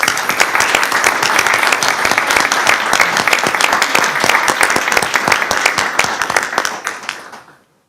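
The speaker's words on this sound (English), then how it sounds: "Let's give them all another round of applause." Board meeting audience applauding a retiree and honorees, a dense, loud and steady round of many hands clapping that runs for several seconds before fading out at the end.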